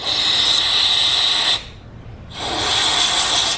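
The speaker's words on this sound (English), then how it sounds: "I'm now going to use some brake cleaner inside of all these threads" Brake cleaner sprayed into threads on an LS-swapped S10 Blazer's clutch hydraulics: two loud, close aerosol hisses, the first about one and a half seconds, a short pause, then a second burst of similar length.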